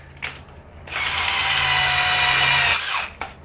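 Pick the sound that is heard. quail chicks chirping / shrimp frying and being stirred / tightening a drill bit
tightening a drill bit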